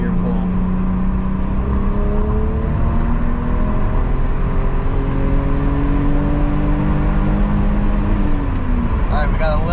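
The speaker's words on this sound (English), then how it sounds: "So a little second gear pull." A BMW 635CSi with a smoking head gasket pulls hard in second gear, its engine note loud and close, climbing steadily in pitch and holding a sustained throaty roar through the whole run.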